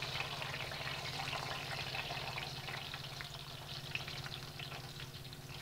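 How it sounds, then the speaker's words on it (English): Pizza dough fries in hot olive oil with a soft, even, bubbling sizzle that holds steady and fairly faint the whole time, with no voices over it. "We're going to lay that dough right in there, and we're going to quickly fry it in the olive oil"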